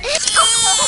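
An infant cries in the horror shooter They Hunger, a short wavering wail with rising and falling pitch, heard clearly and close without talk over it.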